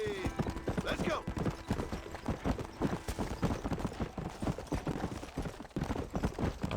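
Horse hooves clip-clop in a steady rhythm while riding in Red Dead Redemption on PC, close and prominent, with someone talking over the hoofbeats.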